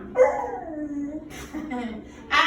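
A very young puppy, nearly four months old, whimpers with drawn-out high whines and a sharp yip near the end, close and fairly loud, with a person speaking nearby.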